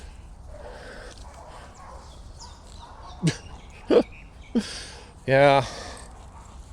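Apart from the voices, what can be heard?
dogs barking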